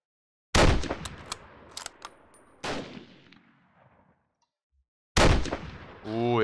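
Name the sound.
machine gun fire in video game Battleground Europe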